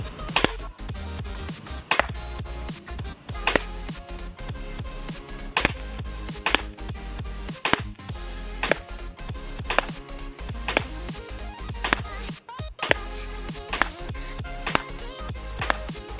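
An FN-57 CO2 gas blowback airsoft pistol fires a long string of sharp, loud cracks at a steady pace of roughly one shot per second, aimed at a target 65 to 70 feet away, with a constant background noise.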